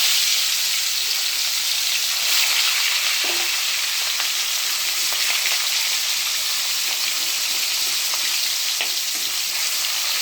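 Pointed gourd and fish frying in oil in a pan, a dense continuous sizzle with faint crackles and occasional stirring scrapes, close and steady without any voices.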